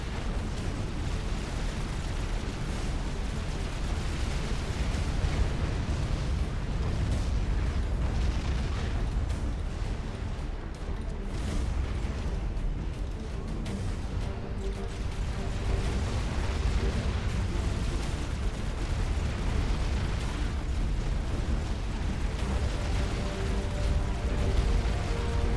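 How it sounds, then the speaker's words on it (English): Repeated cannon fire from a UEF direct-fire unit in a real-time strategy game, a dense continuous rumble of booms and bursts with no clear gaps, loud and sustained throughout. "Oh, you do have a little dinky direct fire cannon."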